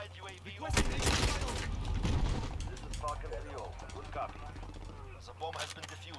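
A submachine gun in Call of Duty Modern Warfare fires in very fast bursts, a loud stream of crackling shots with shorter volleys later, while someone talks over the gunfire.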